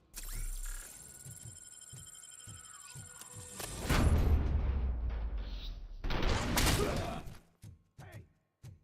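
Gunfire and heavy mechanical thuds from the RoboCop video game, set in Detroit, with a loud burst of shots and impacts in the middle, followed by quieter scattered thumps and clanks.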